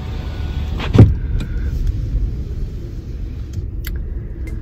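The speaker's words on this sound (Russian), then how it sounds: "закроем окно" A car's power window closes with a short whirring motor sound over the low rumble of the car interior, followed by a faint thump as it seats.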